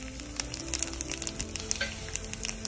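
Tempering spices frying in hot oil for a Tamil green chicken curry, a close, dense sizzle with rapid crackling pops throughout, alone with no voices.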